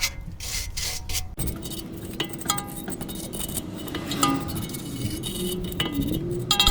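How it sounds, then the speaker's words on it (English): A wire brush scrubs the front brake caliper of an Audi A4 B9 in close, repeated scratchy rasps, with occasional light metallic clinks and no talking. "We're going to have a little clean up with a wire brush."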